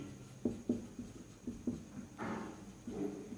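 Chalk or marker taps and scratches on a board in short strokes while working out a rectangle's length in a maths lesson, faint and close with quiet pauses between marks.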